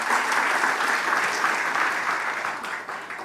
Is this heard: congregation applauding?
yes